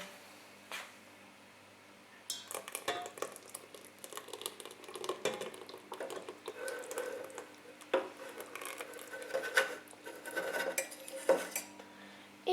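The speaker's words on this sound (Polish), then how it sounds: "Zimną galaretkę z czekoladą dodam teraz do ubitej śmietany." Cold chocolate jelly is stirred into whipped cream in a bowl, giving quiet, irregular scraping and clinking of a utensil against the bowl with soft squishy movements, faint and close, with brief pauses between strokes.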